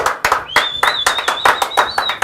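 Audience applause for Professor Raúl Cordero, a historical researcher arriving as a guest on a local talk show: a short burst of close, sharp, rhythmic clapping from a few people, with a steady whistle-like tone running underneath.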